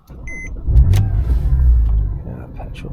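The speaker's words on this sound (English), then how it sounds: "let's start the car" A Porsche 997 engine cranks and fires up close by, settling into a deep, loud idle rumble after a brief chime; a voice speaks over it.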